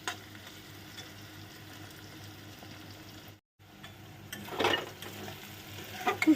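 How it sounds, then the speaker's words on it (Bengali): Vegetables fry in a pan and are stirred, giving a continuous, fairly quiet sizzle. A brief gap cuts the sound, then it returns with louder scraping and stirring bursts toward the end. "আমি নিজে নাড়ছি তো নিজেই বুঝতে পারছি"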